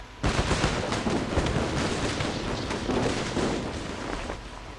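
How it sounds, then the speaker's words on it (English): A gunshot echoes in a rainy scene from the video game Reverse 1999, a sharp loud burst at the start followed by a dense rumbling, crackling tail that carries on under heavy rain. "He pauses at the echoing of the gunshot and scans his surroundings."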